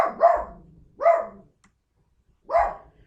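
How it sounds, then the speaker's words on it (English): A dog barks three times in quick succession, with two close barks followed by a pause and then a third, fairly loud and near, indoors in a quiet room with no talking. "And there's my dog again."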